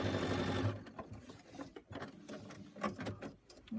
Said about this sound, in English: And here's my last stitch I'm doing across here.